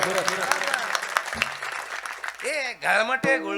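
An audience claps at a comedy kirtan, a brief burst of applause in the first couple of seconds beneath a man's loud, animated voice that carries on alone afterward.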